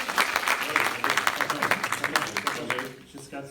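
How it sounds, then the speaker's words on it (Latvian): Audience at a presentation breaking into applause, a dense burst of close, rapid clapping that thins and fades toward the end. "Tāpēc ar skaļiem aplausiem Kristapu Kozlovski sagaidām priekšā"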